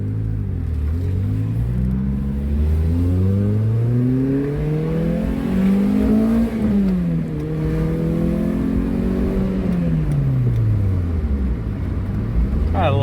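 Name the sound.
small hatchback car engine revving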